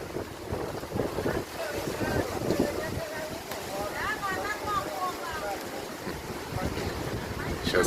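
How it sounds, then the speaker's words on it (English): Ocean waves wash continuously onto a beach at Vega Baja, Puerto Rico, under heavy wind buffeting the microphone. A faint murmur of people is mixed into the steady surf. "Hear those waves, everybody."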